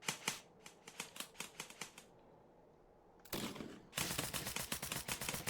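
Rapid gunfire in an airsoft video game: a string of sharp, evenly spaced shots, a pause, then a longer dense burst of automatic fire, loud and close, with no speech.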